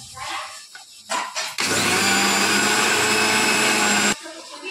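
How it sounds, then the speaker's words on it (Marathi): A mixer grinder grinds barnyard millet dosa batter into a paste, whirring at high speed for a few seconds after short bursts, a loud steady motor whine, then stops abruptly. "आता आपण मिक्सरमधनं फिरवून घेऊया।"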